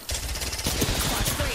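A loud, close automatic weapon in Apex Legends fires a fast rattling burst of shots with steady rhythm, packed tightly through the short stretch, with a voice faintly present beneath.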